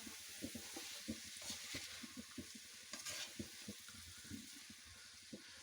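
A spoon stirs leftover rice into vegetables in a pan for vegetable fried rice, soft repeated scraping strokes in an irregular rhythm over a faint sizzle, quiet and close.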